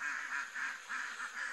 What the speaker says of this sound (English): Because that noise you can hear, we've still got 100 Campbell ducks in there.